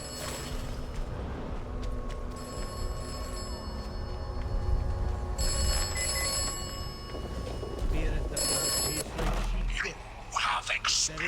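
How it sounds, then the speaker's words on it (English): Telephone ringing in the video game Atomfall, a loud repeated electronic bell sounding in bursts over game ambience while someone talks throughout. "Let's answer this phone real quick."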